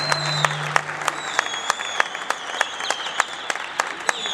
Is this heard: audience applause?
yes